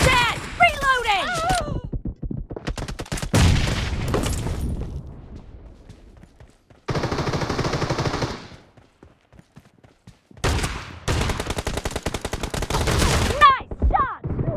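Shotgun fire in the mobile battle-royale game BGMI, sharp blasts in quick bursts with stretches of rapid firing and short quiet gaps, loud and close, with a player's voice talking over parts of it.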